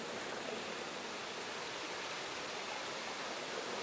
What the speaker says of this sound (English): the water was forced up to the surface to bubble out of the rocks here at Zebedee Springs in the Kimberley